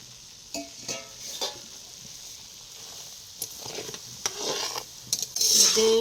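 Mixed spices are stirred into cooled oil for a pickle, producing soft scraping and clinking strokes against the pot in scattered bursts, fairly close and quiet, with no talking.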